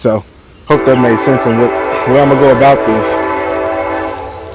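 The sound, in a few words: passing train with horn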